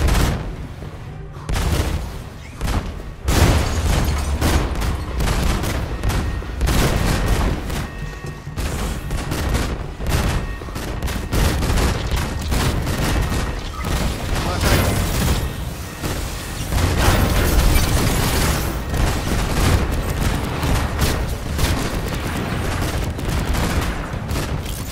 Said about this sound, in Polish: Zaraz wybuchnie!